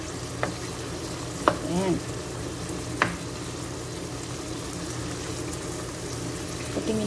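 Chicken sautéing in a pan, a steady close sizzle and frying crackle with occasional clinks of a utensil stirring and a short spoken word over it.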